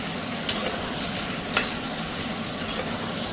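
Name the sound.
onions frying and being stirred in a pan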